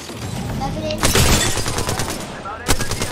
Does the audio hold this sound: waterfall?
no